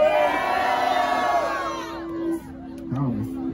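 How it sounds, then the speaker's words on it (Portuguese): A crowd at a Brazilian street rap battle cheers and shouts loudly, sustained whooping that fades out, followed by a few scattered shouts near the end. "Quem achou que esse round deu KPV e perigo faz barulho?"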